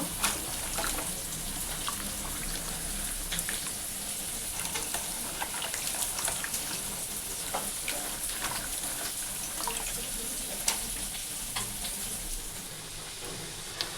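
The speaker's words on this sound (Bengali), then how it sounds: "ওদিকে তো মাছ ভাজা বসিয়ে দিয়েছি" Fish frying in hot oil gives a steady, close sizzle that runs unbroken throughout, with scattered small crackles and pops.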